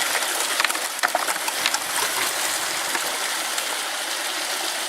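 Water rushes steadily through a gold sluice box at a stream, a loud, continuous broadband gush with a few faint chirps and splashes over the top.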